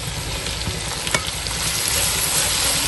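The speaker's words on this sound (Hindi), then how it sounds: "इसको फ्राई करते हैं।" Garlic and ginger paste frying in a pan for a beef and bottle gourd curry, a steady loud sizzle throughout with a faint stir or scrape near the middle, no talking.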